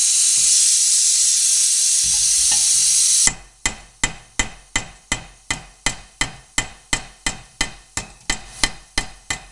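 Glowing hot rivet on a homemade tekko kagi struck with a hammer: a loud hiss first, then a steady series of about sixteen sharp, close metallic blows in even rhythm, with no voices.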